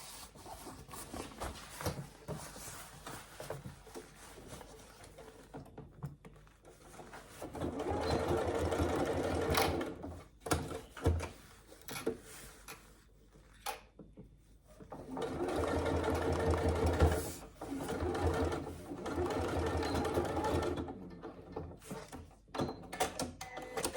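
A sewing machine stitches a half-inch seam across the corner of a fabric wash bag, running in two long bursts separated by short pauses and quieter handling sounds, close and moderately loud.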